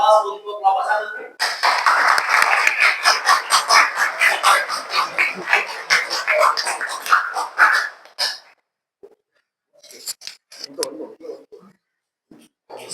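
Audience applause for a group of presenters at a classroom teaching performance, a dense burst of clapping lasting several seconds before fading, followed by quieter speech.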